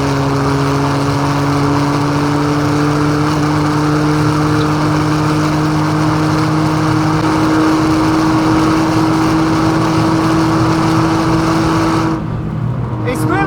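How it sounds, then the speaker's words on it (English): Modified Toyota GR Yaris with a 3-cylinder engine at full throttle on the Nürburgring: loud, steady in-car drone with a slowly rising pitch, cutting off sharply near the end. "Crazy what a little 3-cylinder Yaris can do on the racetrack now."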